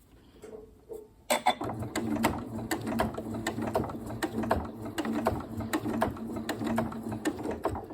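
Sewing machine stitching fabric for a cushion, starting after a short quiet lead-in, then a steady run of rapid mechanical clicking and whirring with rhythmic needle taps, moderately loud and close, no talk over it.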